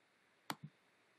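A computer mouse clicked twice in quick succession, a sharp tick then a softer lower click, very faint and close against quiet background hiss.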